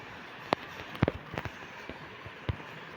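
Firecrackers bursting outdoors at night in a few sharp separate pops, one a quick double crack, then a later single bang, fairly distant over faint background noise.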